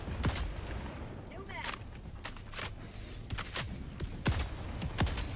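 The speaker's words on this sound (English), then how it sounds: "There's so many of these base turrets on this map, dude." Base turrets in Helldivers pound out gunfire as a string of loud, sharp shots spaced irregularly over several seconds, with someone speaking between some of the blasts.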